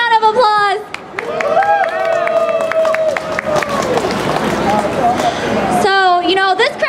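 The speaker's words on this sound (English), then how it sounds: "Let's give him a round of applause." Crowd at a Taiwan-for-UN rally breaks into sustained applause and cheering, a dense wash of claps and shouts lasting several seconds, with a voice talking over a PA just before and after.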